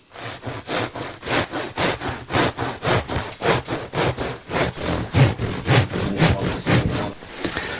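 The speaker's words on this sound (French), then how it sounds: "poser la règle et appuyer la lame du couteau contre la règle" A knife blade saws along a ruler through Isonat wood fibre insulation in loud, rhythmic back-and-forth rasping strokes, about two per second, close and steady throughout with no talking.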